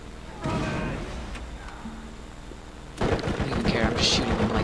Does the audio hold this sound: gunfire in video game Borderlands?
yes